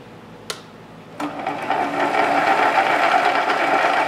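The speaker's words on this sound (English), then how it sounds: "we're gonna do a test cut first, very shallow" A metal lathe takes a shallow test cut for a 1.25 mm thread. After a couple of sharp clicks, a steady motor whine and cutting hum build up and hold loud and close.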